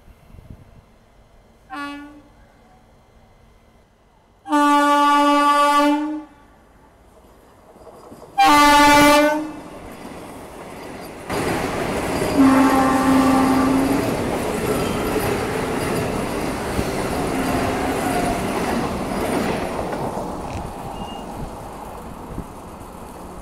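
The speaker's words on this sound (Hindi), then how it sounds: "ये देखो ऑरेंज वंदे भारत जो है वो ओवरटेक करने वाली है और ठीक ठाक रफ्तार में आ रही है" Orange Vande Bharat Mysuru–Chennai Central express overtaking at moderate speed: two loud, separate horn blasts, then a long, steady rumble and rattle of the train rolling past close by.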